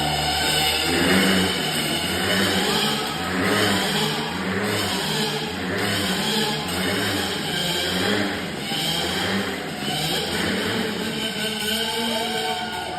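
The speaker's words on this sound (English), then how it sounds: "this is one of their acts doing the motorcycles in the gate" Motorcycles roaring through a circus stunt act in a cage, engines revving loudly in repeated rising and falling surges as the riders circle, close and continuous with no talk.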